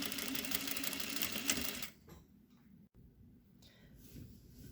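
A sewing machine stitches the seam of a patch pocket, a fast steady close whirring run that stops abruptly, then quieter faint mechanical sounds in the room.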